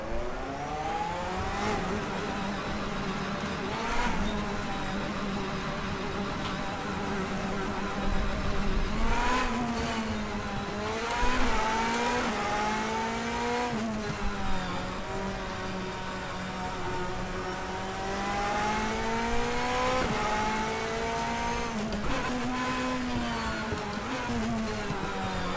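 A DTM race car in the DTM Experience video game pulls out onto the Moscow Raceway track during qualifying, its engine whining steadily and rising and falling through gear changes for a long, continuous stretch with no talk.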